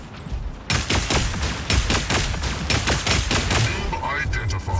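Weapons fire in the mech combat game Mech Arena as dense, rapid volleys of loud shots. The bursts run continuously, layered with mechanical clatter and a voice heard under the gunfire.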